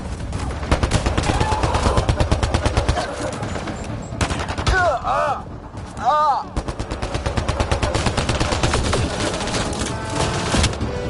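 Rapid sustained automatic gunfire in Mass Effect Andromeda combat, loud and close, with dense bursts broken briefly by pauses and a few pitched sci-fi whines in the middle.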